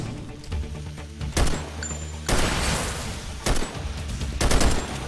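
Gunfire in the video game Synthetik: Legion Rising, a player shooting a wall, comes as several loud separate bursts of shots over a steady low game hum, with no talking.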